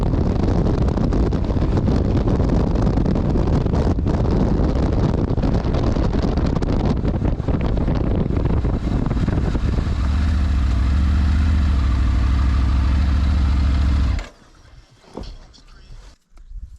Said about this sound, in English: this is the gravel that I was talking about before